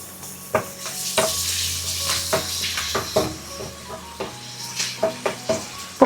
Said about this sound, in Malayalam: എണ്ണ ചൂടായതിന് ശേഷം നമ്മൾ കട്ട് ചെയ്ത് വെച്ചിരിക്കുന്ന പപ്പടം കുറച്ചായിട്ടിട്ട് ഫ്രൈ ചെയ്തെടുക്കാം